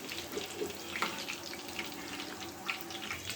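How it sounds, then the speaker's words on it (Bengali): Chicken cutlets frying in hot oil and being turned over in a pan: a continuous close sizzle with scattered crackles and pops, and no one talking. "একটু উল্টে পাল্টে ভাজা করব।"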